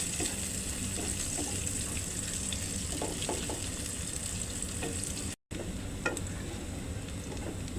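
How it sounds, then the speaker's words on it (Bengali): Garlic frying in oil in a pan until light brown, for a Malabar spinach chorchori: a steady, dense sizzle with occasional stirring clicks, continuous throughout apart from a brief dropout near the end. "এখন হালকা বাদামি কালার করে ভেজে নেব।"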